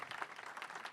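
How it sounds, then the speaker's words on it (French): Audience applause for participants at the close of a talk on quantum software, a quieter, fairly steady patter of clapping from the room with no voices over it. "À nos participants qu'on peut applaudir quand même."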